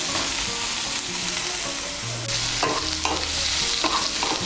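Chopped onion and slit green chilies frying in hot oil, a loud continuous sizzle with spatula stirring and scraping against the pan, a few dull knocks, no talking.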